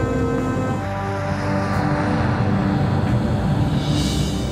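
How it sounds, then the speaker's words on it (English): Airliner engines roar loudly and steadily during takeoff on Swiss Air Flight 111, a broad sustained rumble with a rising whine near the end. "Swiss Air Flight 111 lifted off and made her way northeast toward the open Atlantic"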